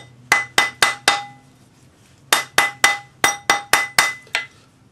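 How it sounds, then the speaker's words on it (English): A rawhide hammer taps a spring ring on a ring mandrel in three quick bursts, four strikes, then four, then five, each with a bright, short-lived metallic ring, close and loud. "use a rawhide hammer"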